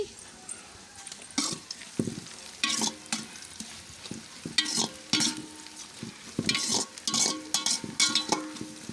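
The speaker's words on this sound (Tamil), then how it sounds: "வெங்காயம் நல்லா வதங்கிருச்சு" Onions sauté in a pot over a rocket stove for a large batch of mutton biryani, with steady sizzling broken by repeated scraping and clanking stirs close by.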